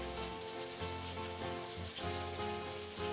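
Hamburger steaks sizzle steadily in a hot skillet, a dense, even frying hiss that carries on without a break, close and fairly loud, with nobody talking.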